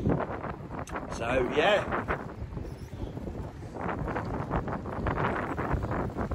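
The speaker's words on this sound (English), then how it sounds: "really windy once again. It's always windy in Skeg." Strong coastal wind buffets the microphone on a bike ride from Ingoldmells to Skegness, a gusty low rumble and rustle running under someone talking.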